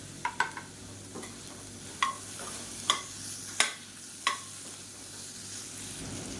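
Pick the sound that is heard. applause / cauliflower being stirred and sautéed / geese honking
cauliflower being stirred and sautéed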